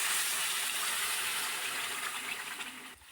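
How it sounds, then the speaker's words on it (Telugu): Water pours from close by onto sugar in a pan to make syrup for rava laddu, a rushing, gushing stream that tapers off at the end. "నీళ్ళు"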